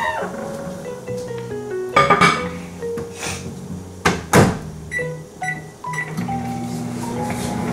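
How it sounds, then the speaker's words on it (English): A microwave oven is operated: a door thuds shut, buttons beep with rising and falling tones, then a low steady hum as it starts running. "now I'm going to put it in the microwave for 10 seconds."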